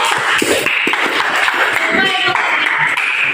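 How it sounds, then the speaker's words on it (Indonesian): A classroom of students claps hands for a group, a continuous dense patter of claps with murmuring voices and shuffling underneath, loud and close throughout. "Tepuk tangan untuk kelompok"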